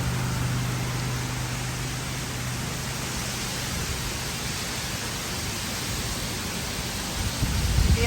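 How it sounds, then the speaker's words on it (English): Hurricane Beryl's wind and rain make a steady, dense roar that fills the air, with a running generator's low hum mixed in and a slight swell near the end. "rain is just flying out across there in sheets"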